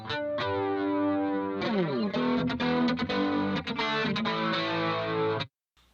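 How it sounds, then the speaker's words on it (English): Distorted electric guitar chords through the flanger of a Leo Jaymz Silverbox multi-effects pedal, sweeping jet-like whooshes across several strummed chords before stopping abruptly. "sounds like a flanger"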